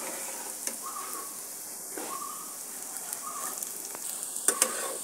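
Fritters made with leaves and khesari lentils fry in oil, a steady moderate hiss with light crackles and a few sharper pops, close by, with faint brief tonal sounds in the background.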